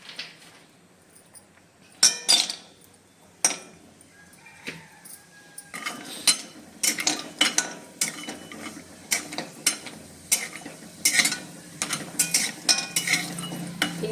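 Asafoetida roasting in a pan for a homemade Maharashtrian spice chutney, stirred with a utensil that gives sharp, irregular metallic scrapes and clinks, sparse at first and then coming rapidly, close by with no talk.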